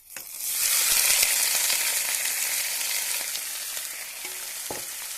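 Prawns hit hot oil with a sharp burst of sizzling that settles into a steady, close crackle, easing slightly toward the end.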